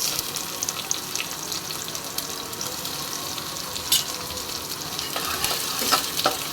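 Chopped onions fry in hot oil in a pan, giving a steady close sizzle with occasional stirring scrapes and no talking.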